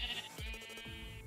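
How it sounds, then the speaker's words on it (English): Sheep in a video game bleat in a quick run of wavering, nasal cries, close and clear over faint background music. "Why are all these sheep getting out?"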